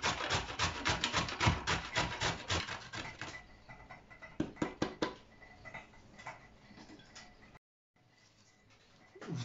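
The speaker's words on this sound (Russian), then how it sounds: "И одну морковку натираем на терке, на крупной терке." A carrot is rubbed quickly across a coarse grater in rapid rasping strokes, dense at first, then thinning into sparser scrapes and a brief pause, close up with no voices.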